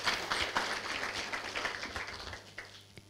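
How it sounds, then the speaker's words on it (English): An audience at a pitching event session in Johannesburg South claps together in a round of applause, a dense steady patter of many hands at moderate distance, slowly fading toward the end. "please can we just honor her with a round of applause again."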